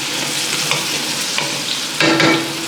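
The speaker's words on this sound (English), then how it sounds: "we just wanted to get a quick sear on the potatoes and the carrots" Potatoes and carrots sear in a hot pan with a loud, steady sizzle. Several scrapes of a stirring utensil cut through it, and a louder burst of frying comes near the end.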